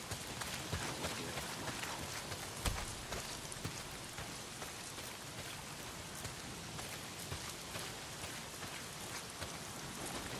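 Heavy rain pouring down in the video game Days Gone, a dense continuous hiss of drops pattering on surfaces, steady and enveloping with occasional louder splats, no talk.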